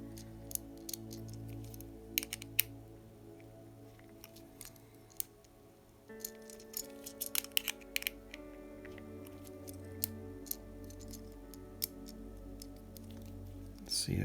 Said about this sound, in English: I'm going to screw this in a bit more